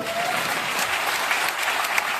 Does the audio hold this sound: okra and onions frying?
no